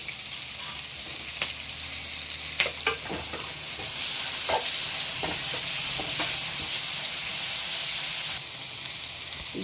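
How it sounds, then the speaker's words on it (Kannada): Onions sizzling in a pan while being stirred for a bamboo shoot curry, a loud, close fry with repeated scraping strokes that grows denser midway. "ಇದು ಸ್ವಲ್ಪ ಲೈಟಾಗಿ ಗೋಲ್ಡನ್ ಬ್ರೌನ್ ಕಲರ್ ಬರೋ ತನಕ ಈ ಈರುಳ್ಳಿನ ಫ್ರೈ ಮಾಡ್ಕೊಳ್ಳೋಣ"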